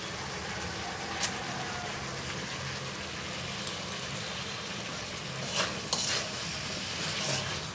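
Fried potatoes and eggplant are stirred through spice masala in a pan, giving a soft continuous sizzle with a few sharp scrapes and clinks of the spoon against the pan.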